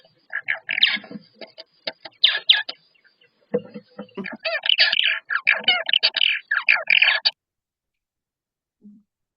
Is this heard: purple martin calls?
yes